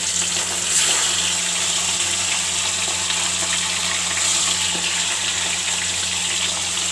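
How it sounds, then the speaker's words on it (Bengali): Four small hilsa fish frying in hot oil, giving a loud, steady hissing sizzle that holds evenly throughout, with a low hum underneath. "মাছগুলা আমি এবার ভেজে নেব এরকম চারটে মাছ আমি দিয়ে দিচ্ছি"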